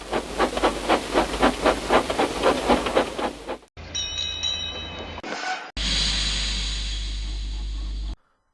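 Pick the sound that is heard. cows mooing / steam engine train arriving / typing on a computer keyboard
steam engine train arriving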